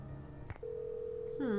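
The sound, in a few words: telephone dialing and ringing in a video game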